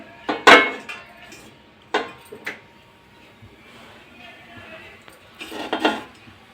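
A cooking pan set on a kitchen stove while making mutton rogan gives a few sharp metallic clanks and scrapes, loud and close, with quiet gaps between them.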